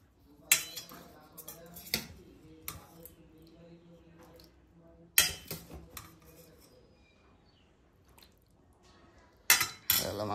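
Rice and meat are served onto a plate at a home meal, with scattered clinks of dishes and cutlery, several sharp clatters spread across a quiet room, and faint background voices.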